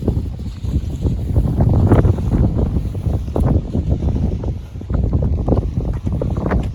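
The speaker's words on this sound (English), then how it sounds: "Yeah, it is pretty windy." Loud gusty wind buffets the microphone in rumbling bursts outdoors on a university campus, continuous and close, with no clear speech.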